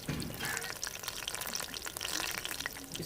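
Besan-dipped green chilies fry in oil with a soft, continuous crackling sizzle, fairly quiet and even throughout, with small pops scattered across it and no talking.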